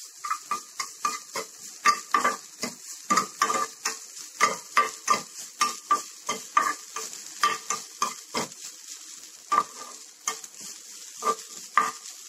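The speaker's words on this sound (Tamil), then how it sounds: "தேங்காயும் நல்லா வறுத்துக்கலாம்" A cup of grated coconut is roasted in a pan, with a spoon scraping and clinking in quick rhythmic strokes over a soft sizzle, close and clear, with no voices.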